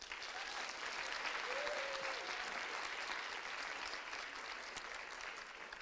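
Sustained applause from a conference audience thanking the speakers after a debate on gender equality for South Africa's development, steady dense clapping that stays even and fairly loud throughout with a faint voice briefly under it.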